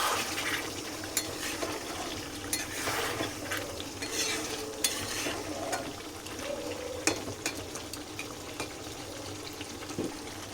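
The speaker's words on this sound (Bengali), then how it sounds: "এবার আর চাপা দেবো না, সেটা এইভাবেই কষা হবে।" Curry is stirred and sautéed uncovered in a pan as it reduces, with continuous scraping and clinking of the spoon over a steady sizzle of frying, and no voices.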